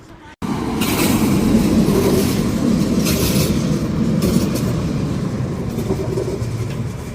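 Steady loud rumble of an underground train in Germany riding along, a continuous rolling roar with faint rhythmic clatter, close and enclosed.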